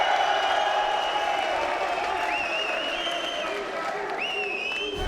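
A crowd at a Call of Duty esports event in London applauds and cheers in a steady wash of clapping, with a commentator talking over it throughout.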